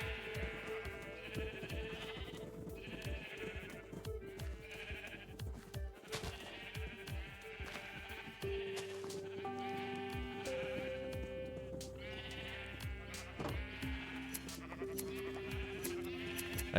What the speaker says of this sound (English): I love you, sheep, but you have no brain cells.